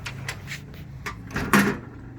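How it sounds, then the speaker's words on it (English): Key turning in the lock of a 2004 Fleetwood Bayside Elite pop-up camper door, a few close, sharp clicks and knocks building to a louder latch clunk near the end, with no one talking. "So there'll be a key. unlock the door. Unlock it and turn it."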